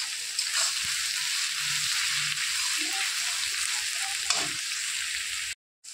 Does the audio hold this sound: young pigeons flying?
no